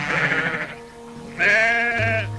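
A sheep bleats twice, two loud close wavering cries with a short pause between them, heard alone without talk.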